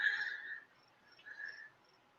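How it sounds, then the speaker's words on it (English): Crickets chirp outside a window on a Michigan night, a faint high trill in two short bursts separated by a quiet gap, heard alone. "You guys can hear them outside my window."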